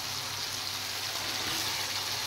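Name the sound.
fried potatoes sautéing in a pan for fish curry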